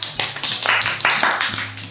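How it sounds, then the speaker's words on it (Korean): A small group applauding a guest on a Korean talk show, a short run of sharp, close hand claps in an irregular rhythm that fades slightly over about two seconds. "다시 박수."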